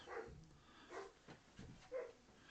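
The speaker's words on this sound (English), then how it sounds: "Sorry, it was a dog barking." A dog barks several times at a distance, short separate yaps spaced out over a couple of seconds, fairly faint against background noise.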